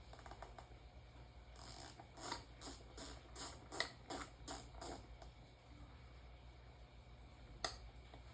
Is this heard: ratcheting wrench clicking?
yes